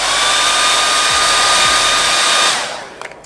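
A heat gun warming a car bumper gives off a loud, steady blowing roar with a faint high whine. It runs close and constant, then cuts off and winds down, leaving a few light clicks.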